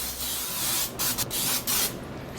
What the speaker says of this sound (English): I'm gonna spray it with some non-stick spray.